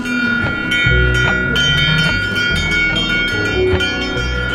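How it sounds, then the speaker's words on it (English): Bells made at Arcosanti hang from a gallery ceiling and ring out in overlapping metallic tones, sustained shimmering strikes layered over one another in a continuous, fairly loud wash. "Behind me, you can see all these bells hanging from the ceiling."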